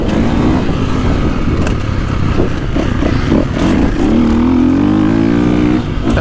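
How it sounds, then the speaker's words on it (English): 2024.5 KTM 450 Factory Edition dirt bike engine while riding on a track, a close, loud single-cylinder drone that rises in pitch as the throttle opens, steady and continuous throughout. "This bike is quieter with the Acropolis engine."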